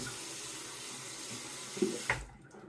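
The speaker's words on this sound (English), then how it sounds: "let the water out of the sink" A bathroom sink drains with a steady, close rushing and gurgling of water, then ends in a couple of soft clunks before quiet.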